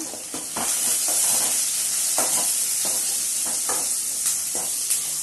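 Garlic sautés with a light sprinkle of salt in a pan for a Tamil ennai kathirikkai kulambu, giving a steady close sizzle broken by several short scraping stirs.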